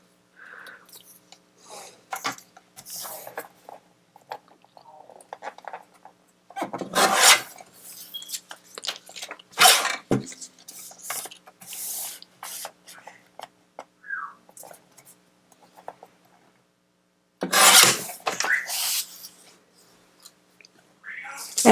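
Rotary paper trimmer slicing card stock down to size during card making, with several dry, scraping swipes spaced across the stretch amid quieter handling rustles, close and moderately loud, without talk.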